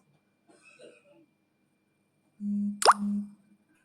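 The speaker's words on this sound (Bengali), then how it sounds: "এখন এই সবজিগুলো সব আমি ঢেলে দিলাম" Vegetables are tipped into a cooking pot after the spice tempering, making a single loud, close plop over a brief low hum that follows some faint murmuring.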